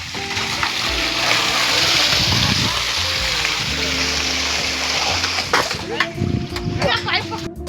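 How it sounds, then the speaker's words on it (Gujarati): Water gushes from a hose pipe into a small tank, splashing and churning steadily up close while people talk and call out over it. "ફાઇનલી કુંડીમાં પાણી આવી ગયું હે."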